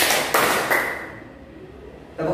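Three sharp hand claps land in quick succession during a counted clapping game in a classroom, their ring fading away before a voice begins at the end.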